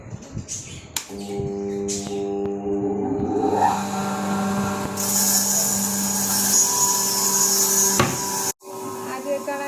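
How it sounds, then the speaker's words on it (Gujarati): An electric flour mill (ghanti) grinding wheat starts up with a loud, steady mechanical whine and hum, a rising tone as it spins up, and strong high-pitched grinding noise, running close by before cutting off near the end. "ઘઉં દળવા નાખી દીધા છે કંટીમાં ચાલુ કરી દઈએ કંટી"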